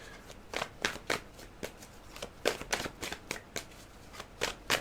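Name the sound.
tarot cards being shuffled and drawn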